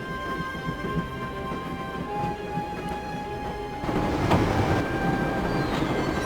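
Train running in the video game Broken Sword: Shadow of the Templars, a steady rumbling clatter of rail cars that swells louder partway through and continues without speech.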